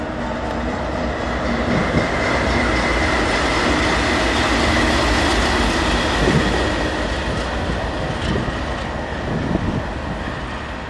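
A train passes on rail tracks in Detroit's North End, a steady loud rumble with rolling rail noise that runs evenly throughout, with no voices.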